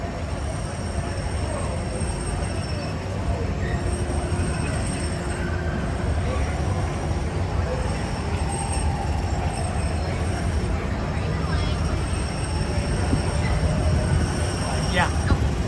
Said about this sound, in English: we should have another monorail coming along very quickly.